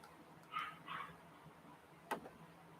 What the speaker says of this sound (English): Oh, I hear my lovely little dog in the living room, living it up.